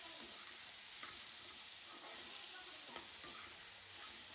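Tomatoes, onions and ginger sautéing in a pan for paneer gravy, a steady close sizzle and crackle with faint stirring scrapes, no voices.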